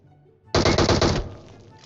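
Automatic gunfire in the PUBG Mobile game bursts out as a rapid, loud string of shots lasting under a second and then cuts off, leaving a short decaying tail.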